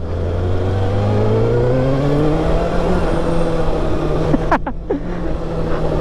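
A 2024 Kawasaki ZX-6R 600cc motorcycle engine revs loud and close, its pitch climbing steadily through the gears, then a quick rev drop and blip near the end, continuous wind and engine roar throughout.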